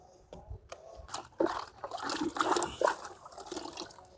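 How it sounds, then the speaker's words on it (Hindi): A liquid fertilizer solution mixed in water is poured around the roots of a bottle gourd plant, producing irregular splashing and trickling bursts close by against quiet soil. "इस घोल को हम अपने लौकी के पौधे के जड़ के पास में अच्छी तरह से डाल देंगे"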